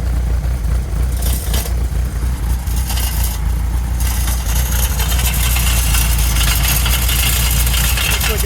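A 1987 VW Syncro van engine idles steadily with a rough, continuous exhaust rumble, close by and fairly loud, with no talking.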